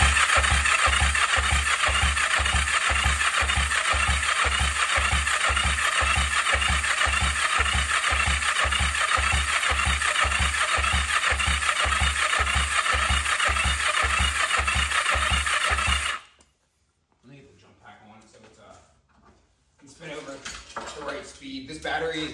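Steady, rapid rhythmic churning of an engine being cranked by a jump pack with the throttle open during a compression test, loud and continuous for about sixteen seconds before cutting off, followed by quieter background noise.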